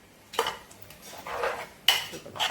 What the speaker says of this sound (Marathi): व्यवस्थित ढवळून घेतलं आहे